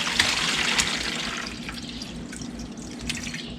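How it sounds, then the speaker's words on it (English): Melted butter splashes and trickles into a colander, with a few louder spatters early on, heard close and without talking. "I'm just gonna pour it into my colander here"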